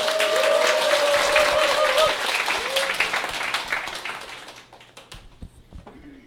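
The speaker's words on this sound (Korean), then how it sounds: "큰 박수 부탁드리겠습니다" Loud, dense applause from an audience at a company gathering as a speaker walks onto the stage. A voice is heard over it early on, and the clapping then fades to scattered claps and quiet.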